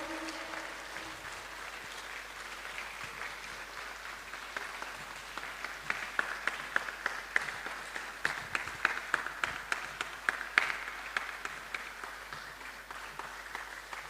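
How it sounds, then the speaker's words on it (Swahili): Audience applause at a university convocation ceremony, a long sustained round of clapping from a large crowd that holds steady and swells slightly in the middle, with a faint voice near the start. "Naombeni tusimame na kila mtu apige makofi kwa sababu yoyote ile kwa dakika 2. Tuendelee kupiga makofi."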